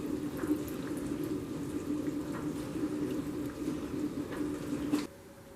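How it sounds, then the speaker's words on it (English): Water is poured out of a pan of cooking bell peppers for Italian sausage sandwiches, a steady splashing, trickling stream that runs for about five seconds and then stops abruptly. "Alright, time to empty the water again."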